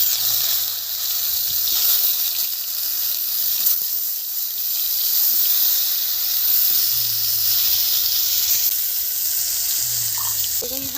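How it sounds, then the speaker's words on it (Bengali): Eggplant (brinjal) slices frying in hot oil, a bright, steady sizzling hiss running continuously, close and loud, with a few faint clinks of utensils. "বেগুনটা ভেজে নেব"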